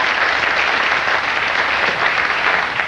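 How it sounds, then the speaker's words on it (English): A studio audience at a late-night comedy news segment claps for a joke, with dense, steady applause filling the room, loud and continuous, with no voices over it. "The women clapped at the premise and the men clapped at the punchline"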